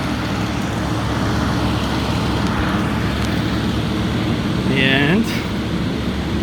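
Busy city street with construction all around, a dense, loud roar of traffic and machinery, with a brief passing whine near the end and a voice speaking briefly over the din.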